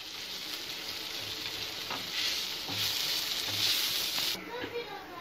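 Masala and coriander sizzle and fry in a pan for a chicken egg roti, a steady close hiss that swells as the mixture is stirred, with someone talking softly over it.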